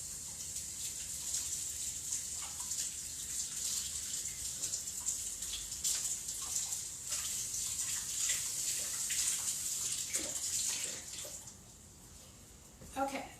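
Grapes are rinsed under a running kitchen tap, a soft, steady hiss of flowing water with faint splashes and handling noises throughout. It is fairly quiet, and a few small clatters come near the end.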